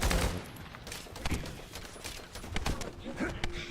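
Rapid gunfire in a shooting video game, bursts of sharp cracks and machine-gun volleys coming thick and fast at moderate level, with a voice talking now and then.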